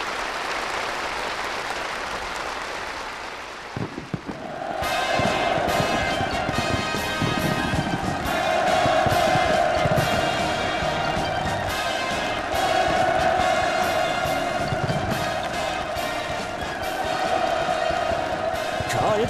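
A big crowd roars and cheers at an outdoor completion ceremony for a new housing district, with sustained loud massed voices and bursts that fit celebratory fireworks, continuing for many seconds after a quieter opening.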